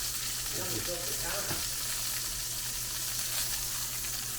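Duck leg fries in a pan under a brick, giving a loud, continuous sizzle close up with faint stirring or scraping early on.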